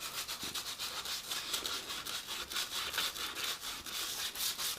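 Sandpaper rubbing back and forth along the neck of an Epiphone Les Paul electric guitar being refinished to a satin feel, a quiet, steady rhythmic scratching of strokes, close up with no voices.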